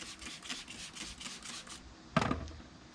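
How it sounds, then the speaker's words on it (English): Speed wax being rubbed onto a chrome truck wheel gives a soft, steady rhythmic rasp of repeated strokes, then a sharper, louder scrubbing burst near the end. "Now we're gonna go back with the speed wax and go in on this chrome wheel."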